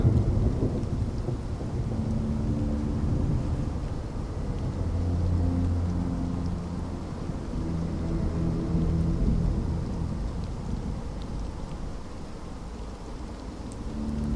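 Steady heavy rain pours down onto dark, wet asphalt with a low rumble of thunder rolling underneath, continuous and enveloping.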